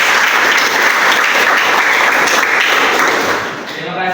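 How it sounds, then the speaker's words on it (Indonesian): A classroom of students applauds a classmate named Budi, loud close clapping that fills the room and thins out near the end, with some voices mixed in. "tepuk tangan untuk Budi"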